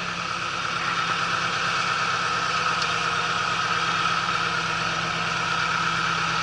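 A tractor engine runs at low speed while being driven slowly past a gate during a cleanup after a night windstorm, a steady rumbling hum with a droning tone, close and continuous, no talk.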